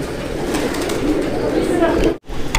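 Domestic pigeons kept for flying coo in a loft, low soft burbling under steady background noise and nearby voices, broken by one brief dropout near the end.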